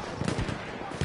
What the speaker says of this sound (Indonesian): Maschinengewehr eindeutig feindlich.